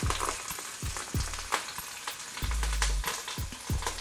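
Ahi tuna searing in fresh, very hot oil in a pan gives a loud, steady sizzle and spatter, with low thumps and a short hum partway through, and no talking.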